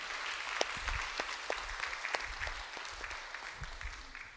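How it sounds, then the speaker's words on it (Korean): Congregation at a Korean Presbyterian church in New York gives a welcoming round of applause, soft and spread out with a few sharper individual claps standing out, fading gradually. "우리 환영의 박수 하도록 하지요."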